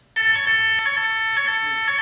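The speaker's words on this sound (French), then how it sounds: "Soudain, une alarme retentit." An alarm suddenly starts up and rings continuously at one steady, piercing tone, loud and close, holding unbroken until the end.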